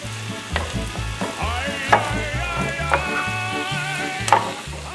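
Ground meat fries and browns in a pan on a stovetop, a steady close sizzle with intermittent scraping and stirring taps, alongside a soft musical background and no talking.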